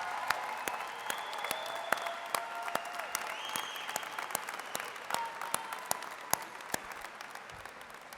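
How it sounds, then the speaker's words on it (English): A crowd at a university athletics graduation ceremony claps steadily in sustained applause, a dense patter of many hands with a few sharper claps standing out, heard from some distance. "thank your families with a round of applause"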